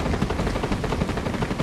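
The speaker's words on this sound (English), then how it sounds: "But I do hear some gunshots." Rapid bursts of video game gunfire in Fortnite, a dense continuous rattle of automatic shots throughout the short stretch, fairly loud with no talk over it.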